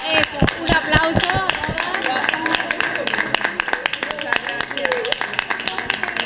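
Audience at a caftan fashion show in a Marbella restaurant clapping for the models, sharp uneven handclaps from a small crowd, loud and close, mixed with voices talking throughout.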